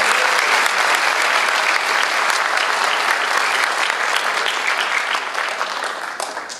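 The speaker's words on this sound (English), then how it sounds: "So round of applause for everyone up here." Sustained applause from an audience at a senior honors night, dense steady clapping filling the whole stretch and tapering slightly near the end.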